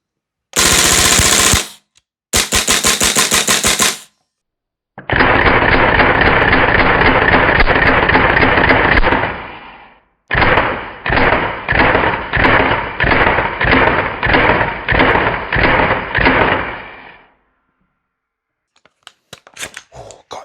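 Rapid bursts of a VFC V3 URGI 10.3-inch M4 gas blowback airsoft rifle with a suppressor firing full-auto, loud and close, several strings of shots with short pauses, then a faint rattle.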